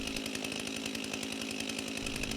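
Chainsaw with a 20-inch bar running steadily while warming up, a loud, continuous buzzing two-stroke engine with a rapid rhythmic pulse, close by and without other sounds.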